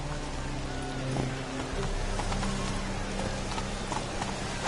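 Horse hooves clip-clopping steadily in the Witcher 3 Wild Hunt video game, a continuous close trotting rhythm over an ambient background with faint music.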